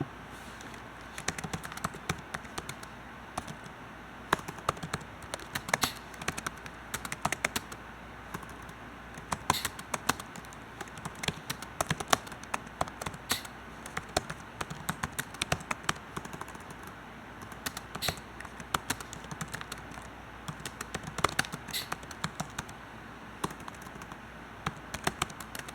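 Someone types on a computer keyboard, irregular bursts of soft clicks and taps over about twenty-five seconds with short pauses, fairly close, no talking.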